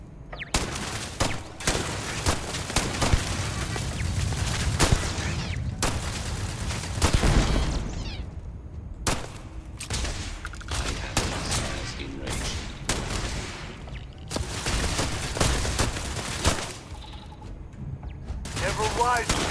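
Turret gunfire in Starfield, a steady stream of rapid mechanical shots with sharp cracks and thuds that carries on without a break and sits over a busy in-game combat din.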